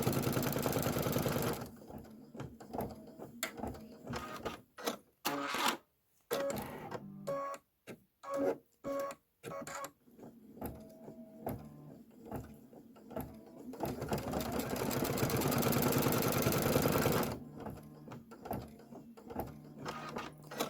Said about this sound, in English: I am going to be placing and stitching and trimming as I go